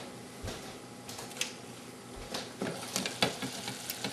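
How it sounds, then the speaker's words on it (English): Sausages sizzling in a pan with leftover ingredients, a soft steady frying crackle broken by scraping, clattering stirring strokes, quiet and close with no voices. "Move those sausages around, get them to meld with the ingredients that we left in there just temporarily, and let it saute"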